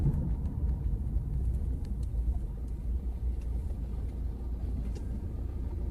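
Taxi car engine running, a steady low rumble with a continuous hum and faint ticks scattered over it, no voices.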